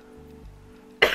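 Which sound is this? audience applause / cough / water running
cough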